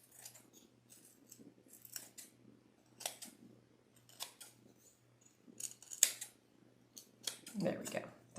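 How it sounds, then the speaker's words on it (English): Small scissors making quick triangle snips in fabric for a stocking, a series of light, close crisp cuts at an uneven pace, with soft talk underneath. "just do a little triangle snip in all these little places"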